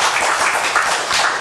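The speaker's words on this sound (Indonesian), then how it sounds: "Boleh kita berikan tepuk tangan?" Audience applause at a televised education discussion program, a short steady burst of many hands clapping together, loud and continuous.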